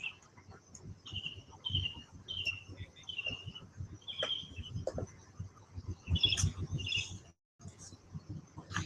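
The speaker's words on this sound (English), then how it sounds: "There's a lot of birds around here. You can probably hear them right now." Birds, seagulls among them, call outdoors in a string of short, high, repeated cries spread through the stretch, fairly faint and distant against a quiet background, with no talk.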